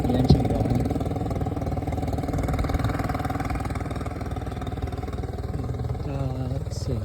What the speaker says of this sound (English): keep the engine going